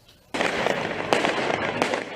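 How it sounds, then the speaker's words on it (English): During riots in France, protesters fire fireworks at riot police. After a quiet start, a dense crackling barrage erupts, with repeated sharp bursts over continuous popping, loud and sustained. "Fireworks turned into weapons as protesters launched them at riot police and buildings across France."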